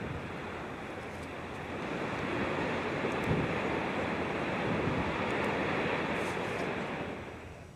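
Storm waves from Storm Kathleen crash on the coast in a continuous broadband roar that swells and ebbs, mixed with wind buffeting the microphone, with no voices.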